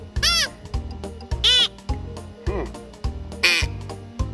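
An Altahmut duck call blown in short, rhythmic nasal quacking bursts, roughly one per second, loud and close with sharp onsets and no talk.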